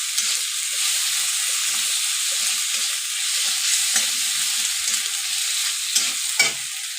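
Chopped tomatoes frying in a pan and being stirred, a steady bright hiss of sizzling with intermittent scraping and clinking of the spoon against the pan, close and fairly loud.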